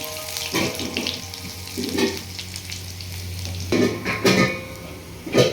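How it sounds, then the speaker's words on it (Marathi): Finely chopped coriander, green chilli and garlic sauté with cumin in a hot pan for garagata bhaji. A steady sizzle sits under intermittent stirring scrapes, close by and moderately loud, with no talking. "हे कोथिंबीर मिरची आणि लसूण बारीक केलेलं आहे परतून घ्यायची आहे"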